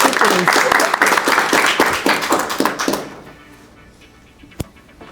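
A group bursts into a few seconds of lively applause at a reality show's dream game, the clapping loud and close before it quickly fades to a quiet room with one sharp knock.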